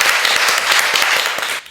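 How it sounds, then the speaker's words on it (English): Audience applause at an academic lecture session, a dense burst of many hands clapping close and loud, fading out at the end. "Let's give him a big applause."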